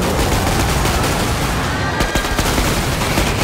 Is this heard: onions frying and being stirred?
no